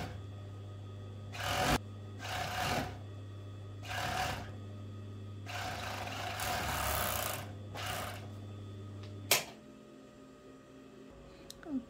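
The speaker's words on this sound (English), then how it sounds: "now you just overlock this one" An overlocker sews the hem of pyjama pants, its motor buzzing in short bursts of a second or two between pauses, with a constant low hum underneath and a click at the end.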